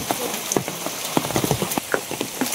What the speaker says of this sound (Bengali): দিব্যি বৃষ্টি শুরু হয়েছে